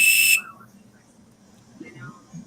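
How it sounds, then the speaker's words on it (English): A dual-chambered survival whistle gives one short, very loud, piercing blast up close, then stops and leaves a quiet background. "It's a dual chambered whistle."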